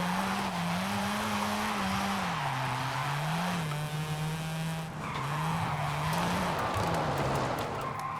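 A modified Mazda RX-7 drifts in Forza Horizon 5, its engine droning continuously and rising and falling in pitch while the tires skid and squeal through the whole stretch, loud and close.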